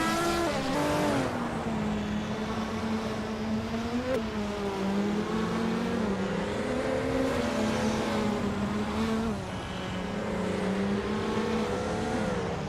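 1977 Lancia Stratos Turbo race cars in a racing video game, engines droning loud and steady with rising and falling revs through gear changes, continuous close-up racing roar with occasional tire squeal.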